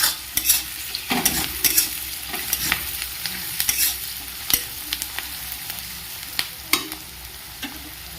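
Chopped garlic fries in a pan for spicy chicken pasta under a low, soft sizzle, with sharp utensil scrapes and clacks from stirring landing at irregular moments.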